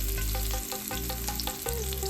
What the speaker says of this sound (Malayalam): ചട്ടിയിൽ തന്നെ കുറച്ച് എണ്ണ ഒഴിച്ച് സവാളയും വെണ്ടയ്ക്കയും കൂടി ഒന്ന് വഴറ്റിയെടുക്കുക.